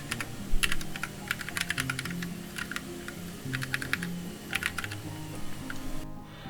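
Fingers type on a computer keyboard in quick irregular bursts of close, crisp keystrokes with short pauses, over a faint low hum, while chapters of a book are being written.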